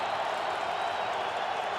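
Steady broad roar of a stadium crowd at an NFL game between the Indianapolis Colts and Cincinnati Bengals in 2005, continuous and distant-sounding with no distinct claps or voices standing out.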